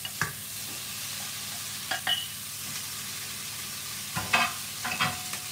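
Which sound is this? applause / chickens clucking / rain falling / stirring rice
stirring rice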